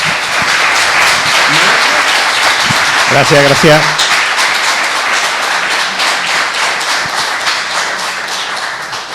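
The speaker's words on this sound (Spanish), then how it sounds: "Empecemos, como siempre pido, un aplauso." Audience applause for a speaker at a retro gaming conference, dense steady clapping throughout, loud and close, with someone briefly speaking over it partway through.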